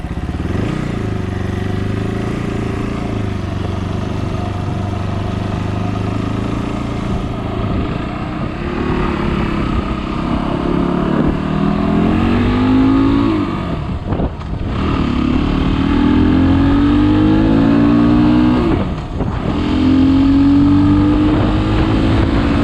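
Fantic Casa 250 EFI enduro motorcycle pulling away on green lanes in the Peak District, the engine droning and revving up through rising and falling gear pitches, loud and close throughout.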